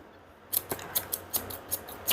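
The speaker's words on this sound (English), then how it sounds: "Just the chunkers make it more blended looking than just regular scissors" Chunking shears cut a Goldendoodle's coat during grooming, a series of about eight crisp metallic snips, close and fairly regular, after a short quiet start.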